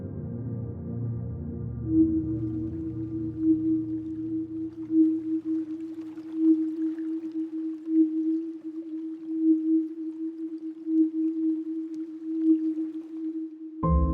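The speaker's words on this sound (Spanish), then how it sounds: "320 Hz. Se considera que esta nota tiene un efecto de sanación y" A sustained 320 Hz tone sounds steadily and softly, faintly pulsing, rising out of a fading low hum at the start and stopping abruptly just before the end.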